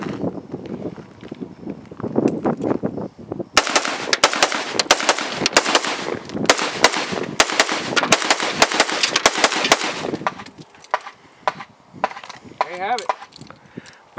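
Rifle shots fired through a Trijicon SRS red dot sight, a fast string of sharp, loud cracks with echoing tails, mostly between about 3.5 and 10 seconds, thinning to a few scattered reports afterwards.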